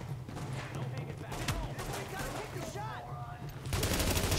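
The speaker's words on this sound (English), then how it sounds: "Shotgun is amazing, by the way." Shotgun blasts in The Division video game, several sharp reports scattered over steady game background noise with a voice talking partway through.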